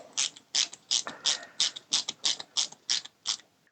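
Tightening a screw on a 1989 Batmobile model makes a steady train of about eleven crisp ratcheting clicks at an even pace, close up and alone.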